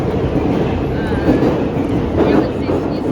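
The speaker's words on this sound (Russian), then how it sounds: "сажусь в метро" Moscow metro train, heard from inside a carriage while riding from Orekhovo toward the centre, giving a loud, steady rumble and roar with faint rattling throughout.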